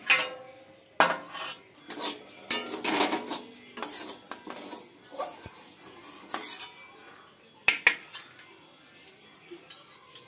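A cooking pot and metal utensils clatter and clink in a home kitchen once a radish dish is done, with repeated sharp scrapes and knocks of metal on metal in irregular bursts, fairly close.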